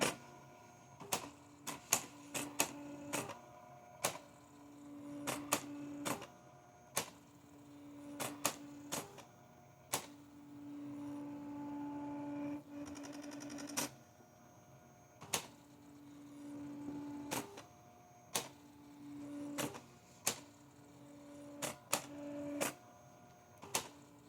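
A Brother EP44 hybrid typewriter printing and feeding paper: bursts of sharp, rapid mechanical clicks and whirring carriage runs, separated by short pauses, close and fairly quiet, with no talking.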